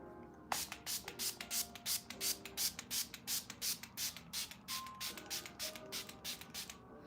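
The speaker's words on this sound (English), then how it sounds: "And then after we do that, we spray it so that it doesn't go anywhere." Makeup setting spray is misted onto a face in a long run of rapid, evenly spaced spritzes, about twenty short hissing bursts in a row, close and fairly quiet.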